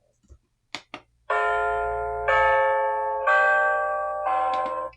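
An XREXS large digital wall clock plays its alarm chime: after a few faint clicks of button presses, a bright multi-tone electronic chime rings in four sustained, decaying strikes, loud and close, with no talking.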